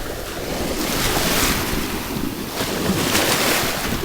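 Ocean surf washing onto a Connecticut shore, a loud steady wash of waves with gusty wind buffeting the microphone, swelling slightly at intervals, and no voices.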